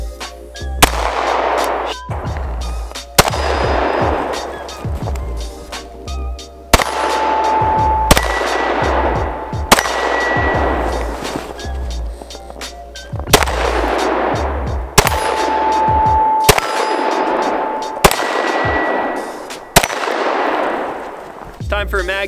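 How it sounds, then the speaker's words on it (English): Loud pistol gunshots from an Agency Arms Syndicate S2 Compact outdoors, about ten sharp reports fired at irregular intervals, each followed by a long echoing rumble. "Time for a mag dump. I'm gonna use the KCI 50 round drum and hopefully it runs them all."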